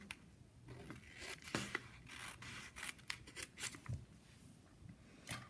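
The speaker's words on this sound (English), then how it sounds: "I'll take scissors and do just a little cut down the center" Scissors snipping down the center of paper notes, a quiet, close run of short crisp cuts and rustles of paper at an irregular pace, no voices.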